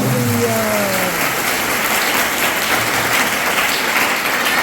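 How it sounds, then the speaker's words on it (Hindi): At an evening worship service, a church congregation gives Jesus Christ a loud round of applause, a dense, close roar of clapping that stays steady throughout, with a voice trailing off at the start. "खुदावंद यीशु मसीह के लिए जोरदार तालियां, जोरदार तालियां"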